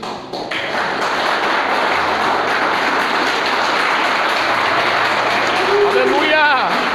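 A church congregation claps in praise during a worship service, a dense continuous clapping wash with a low sustained tone underneath and a voice rising briefly near the end.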